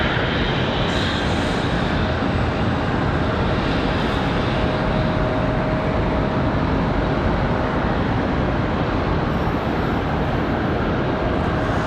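Southwest airliner taxiing across a taxiway at Charlotte Douglas International Airport, a loud, constant jet engine roar and whine held steady throughout, with no talk.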